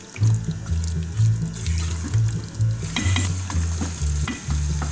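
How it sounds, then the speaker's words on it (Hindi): Potato slices fry with spices in a pan, sizzling steadily while a utensil stirs and scrapes in a rhythmic pattern of repeated strokes, close and fairly loud throughout. "आलू मैंने इसके साथ मसाले के साथ भून लिए।"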